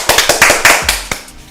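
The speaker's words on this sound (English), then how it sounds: "Clap for this shit. Got a round of applause." An audience at a live Father's Day show clapping in a loose, uneven round of applause, loud and close, with individual claps standing out rather than a dense roar.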